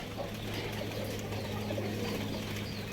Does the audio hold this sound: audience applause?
no